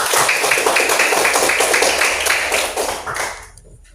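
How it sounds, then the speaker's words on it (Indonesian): Children in an Indonesian classroom clapping hands together in a quick patterned spirit clap, dense sharp claps close by and loud for several seconds, then stopping abruptly. "Tepuk semangat."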